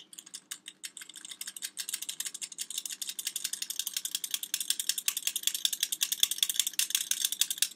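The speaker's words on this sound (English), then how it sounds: "So you can shake it or stir the flour around with a knife or spoon. or just shake it through." A flour sifter works through flour for cookie dough brownies, giving a dense, steady run of quick ratcheting clicks that continues close and fairly loud throughout.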